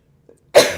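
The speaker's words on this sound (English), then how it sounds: "That was a real sneeze." A single sharp, loud sneeze bursts out close to the microphone after a brief quiet moment, with a tiny faint sound just before it.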